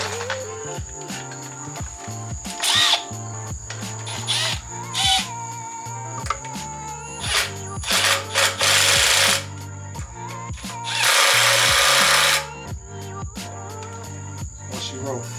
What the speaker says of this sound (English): Tighten the two bolts on the inside of the